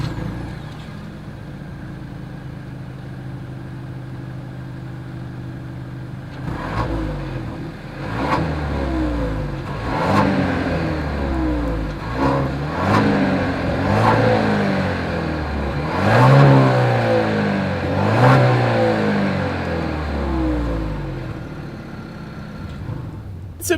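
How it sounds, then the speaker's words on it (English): Exhaust of a 2021 Genesis GV80 SUV idles low, then is revved repeatedly in sharp bursts, each surge rising and falling back to idle, close and loud with no one speaking. "As always, here is that exhaust clip."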